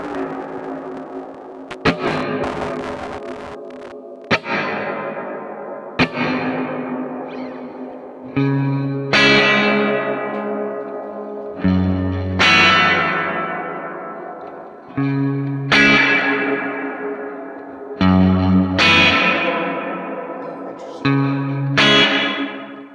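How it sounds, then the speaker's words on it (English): Guitar played through a Keeley Caverns V2 delay/reverb pedal on its modulated reverb setting, with repeated strummed chords that bloom into a wide, wavering wash and decay slowly between hits. "Mod setting. So with mod reverb."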